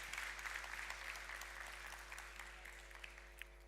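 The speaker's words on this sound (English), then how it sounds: "Let's give them a big round of applause." Audience applause at a matric awards ceremony, a sustained patter of clapping that stays fairly faint and distant over a steady low hum, with no voices.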